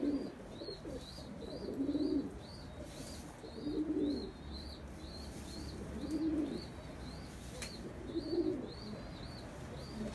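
Pigeons in a loft coo in repeated low, throaty bursts roughly every two seconds, close by, while higher chirps and calls tick along steadily in the background.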